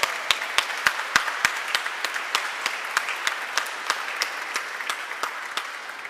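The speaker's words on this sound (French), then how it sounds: "Veuillez les applaudir très bas." Applause from a church congregation at Sunday Mass, with a few distinct, sharp claps standing out near the front over a softer bed of clapping that gradually thins toward the end.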